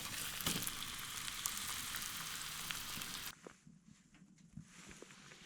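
Ribeye steak sizzles loudly in a pan inside a hot tent at 18 degrees below freezing, a dense crackling hiss dotted with sharp pops, then the frying drops away abruptly, leaving faint clicks and quiet handling noises.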